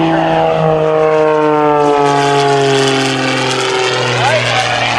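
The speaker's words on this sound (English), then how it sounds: "Right underneath the airplane now, Patty will be performing the ribbon cut" An unlimited-class aerobatic propeller airplane performs at the 2023 Cleveland National Air Show, its engine a loud, steady, buzzing drone whose pitch slides as it rolls and passes. An announcer talks over it throughout.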